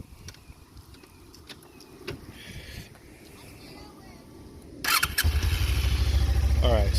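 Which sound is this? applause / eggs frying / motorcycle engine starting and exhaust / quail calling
motorcycle engine starting and exhaust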